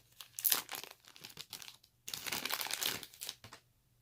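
Thin plastic wrapping from a Huawei Ascend XT2 phone charger crinkles and crackles close by in two handling bursts with a short pause between them, and no one speaks.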